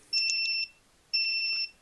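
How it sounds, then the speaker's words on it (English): A timer alarm goes off in two identical bursts of shrill, steady electronic beeping, each about half a second long with a short pause between, clear and fairly close with no talk over it. "And whose timer is just going off?"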